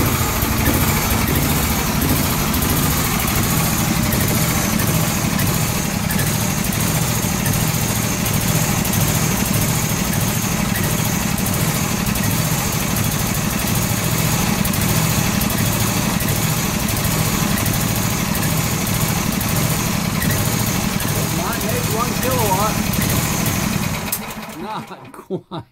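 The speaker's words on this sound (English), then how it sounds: "that sounds like it's running out of fuel to me" A 301cc Predator engine running a generator at 1800 RPM drones steadily and loudly, then sputters and cuts out near the end as it runs out of fuel.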